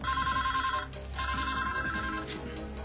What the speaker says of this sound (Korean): 광고에 나온 번호로 전화를 걸었는데.